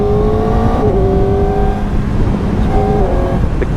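A Kawasaki Ninja ZX-4RR motorcycle with stock exhaust downshifts using its auto blipper, close and loud: a high engine whine drops in pitch with quick throttle blips between the gear changes.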